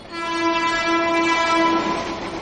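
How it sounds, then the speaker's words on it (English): A train horn sounds on the Western Railway line beside houses and tenements, a loud, steady, multi-toned blast held for over two seconds with no voices. "local trains go by all day, every few minutes, and freight trains as well as passenger trains run all night"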